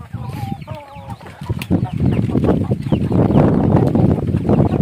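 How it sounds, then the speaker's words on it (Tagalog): Backyard chickens on a rural village farm cluck in short, close calls as they are fed dry feed, then give way to a busy rustling and pecking bustle that grows louder and steadier. "So ayun mga kadayo, pakain na tayo sa ating mga manok."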